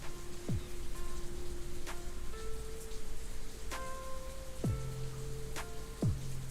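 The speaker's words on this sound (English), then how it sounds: "It's raining hard right now." Heavy rain falls in a steady, dense hiss heard from indoors, continuous throughout, with occasional swooping electronic tones and clicks over it and no voices.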